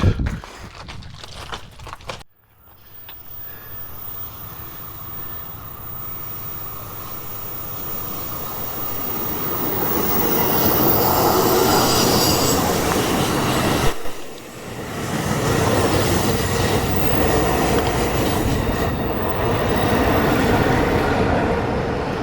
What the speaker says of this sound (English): Oh, there is a train a-coming.